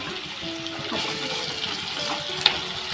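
Chopped onion dropped into hot oil with golden garlic in a Maharashtrian masala, giving a steady loud hiss and sizzle with a sharp crackle near the end.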